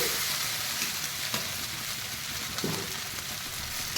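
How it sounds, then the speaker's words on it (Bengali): Country chicken pieces frying and sizzling steadily in a pan, a continuous close crackle with a couple of soft stirring scrapes, no voices. "দু এক মিনিট ছাড়া ছাড়া একটু করে গরম জল দিয়ে দিয়ে আমি মাংসটা ভালোভাবে কষে নিলাম"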